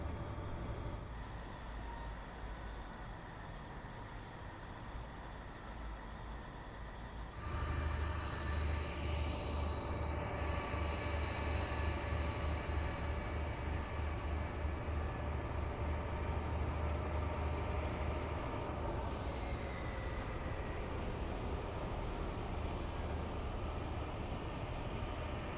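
A Voyager train on the Riviera Line in a train simulator game runs with a steady low rumble and broad rushing noise, which swells after a few seconds and then holds at a constant level with no talk over it.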